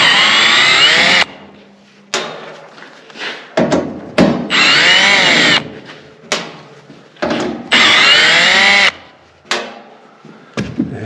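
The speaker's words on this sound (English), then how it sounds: "here you can see we're going to take these screws off" A power drill backing screws out of a Mr. Heater Big Maxx 80,000 BTU shop heater, loud close whirring in several sustained bursts that rise and fall in pitch, separated by brief pauses.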